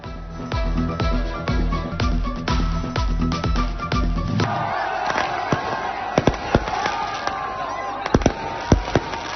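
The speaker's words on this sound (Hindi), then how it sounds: "आतिशबाजी का खूबसूरत मुजाहरा, आसमान रंगो नूर में नहा गया" New Year fireworks celebration in Kamalia, Pakistan, with rapid rhythmic bursts giving way to scattered loud bangs and crackles over a cheering crowd.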